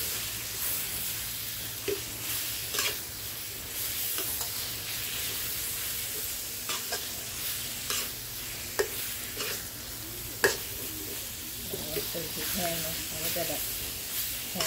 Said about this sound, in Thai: เราก็ใส่หมูสามชั้นที่เราเตรียมได้เลยนะคะพอพริกเราหอมแล้ว